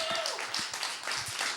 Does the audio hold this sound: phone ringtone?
no